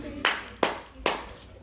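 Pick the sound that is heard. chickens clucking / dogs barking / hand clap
hand clap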